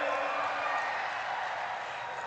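A crowd at a Narendra Modi political rally in Jodhpur breaks into steady, dense applause, a continuous wash of clapping heard from some distance that holds evenly throughout.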